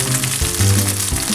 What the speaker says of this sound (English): Now you can hear that sizzling because it's on a nice high heat